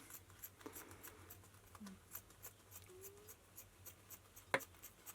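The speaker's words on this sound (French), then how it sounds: "il va vous falloir un ciseau plus petit" Small scissors snip and trim fabric for a pouch, with light faint clicks and scratchy cutting sounds scattered through a quiet room and one sharper snip near the end.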